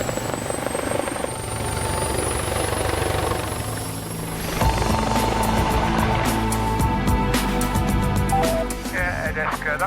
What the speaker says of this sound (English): Deska, that's us now airborne